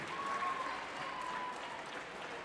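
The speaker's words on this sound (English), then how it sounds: "Crowd going wild there" A crowd at a high school wrestling match, North Scott Lancers against the Assumption Knights, bursts into sustained applause and cheering. The sound is fairly distant and fills the hall evenly, with a quick thin whistle rising above the clapping.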